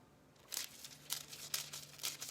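Paper is snipped several times with scissors, short crisp cuts in a loose rhythm, close by and fairly quiet.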